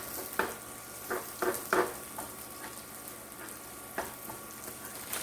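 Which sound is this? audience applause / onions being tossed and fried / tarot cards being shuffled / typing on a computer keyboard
onions being tossed and fried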